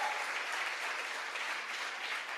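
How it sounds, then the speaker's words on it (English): Audience applause at an arts day event, a dense steady wash of many hands clapping continuously throughout without a break. "Let's give them a round of applause."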